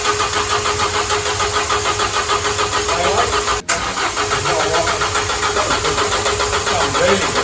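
A newly rebuilt car engine fires up for the first time and settles into a loud, steady mid-pitched idle close by, with a brief dropout partway through before it runs on evenly.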